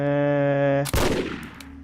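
Single loud gunshot fired in the video game Condemned: Criminal Origins, a sharp crack cutting through a sustained droning game tone and then decaying into a brief noisy tail.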